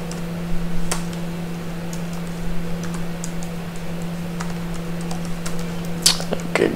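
Scattered, irregular keystrokes on a computer keyboard while typing Laravel form code, close and fairly distinct over a steady low electrical hum, with no voices.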